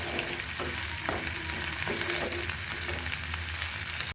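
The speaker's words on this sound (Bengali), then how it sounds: "আর একটু ভেজে নিই।" Chapa dried fish cooked with broad bean seeds fries in a pan, a dense close sizzle with repeated scraping stirs every half second or so, cutting off abruptly at the end.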